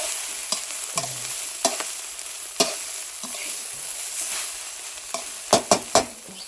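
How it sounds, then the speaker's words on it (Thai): Rice being stir-fried with home-grown kale shoots, a steady sizzle broken by sharp scrapes and clacks of the spatulas against the pan, with a cluster of louder knocks near the end. "นี่ผัดข้าวยอดผักคะน้านะคะ"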